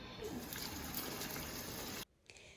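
Water gushes steadily into a bowl while food is washed during a home bulk-cooking session. The loud, continuous pour lasts about two seconds, then stops abruptly, leaving faint background noise.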